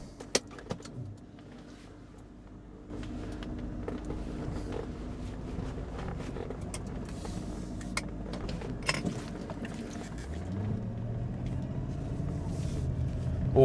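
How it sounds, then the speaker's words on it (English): A classic BMW E34 530i with its small-displacement V8 drives along with a smooth, steady engine hum that swells as it pulls away and rises again toward the end. A few clicks and bumps come from the cabin. "nice sound from that little V8"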